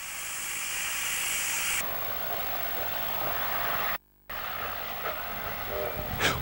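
Steam locomotive 3801 running on an Australian railway, a loud continuous roaring hiss of steam and rolling wheels, briefly cut off, then resuming with faint rhythmic chuffing near the end.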